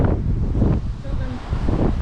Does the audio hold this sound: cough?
no